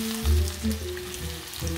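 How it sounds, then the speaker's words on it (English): Green bananas fry with onions and spices, including salt, turmeric, ginger and paprika, in a steady close sizzle with faint stirring clatter and a low background hum. "Actually, it's called frying, not baking, right?"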